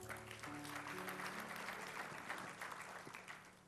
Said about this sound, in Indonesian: Tepuk tangan yang dahsyat.